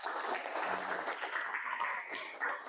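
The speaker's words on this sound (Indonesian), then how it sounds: "Boleh tepuk tangan untuk Renata." Applause from a classroom of students, a dense burst of clapping that holds steady for a few seconds with slight swells, fairly close.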